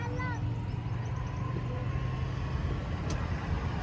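A car's engine hums steadily and low while a learner driver shifts through the gears, with a continuous close rumble and a brief voice heard faintly at the start.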